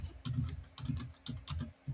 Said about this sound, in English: I'm typing for work.